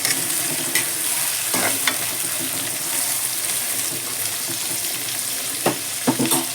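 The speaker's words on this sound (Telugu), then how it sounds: "ఈ ఉల్లిపాయలు అన్నీ వేగడానికి సమయం పడుతుంది" Sliced onions fry in a pan for a fenugreek mutton fry, giving a steady broadband sizzle with a few sharp scraping stirs scattered through, close and moderately loud, with no voices.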